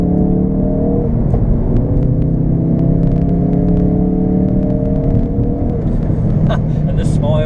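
Ford Focus RS engine running in sport mode, a deep steady rumble from inside the car with a slight rise in revs, with people speaking over it.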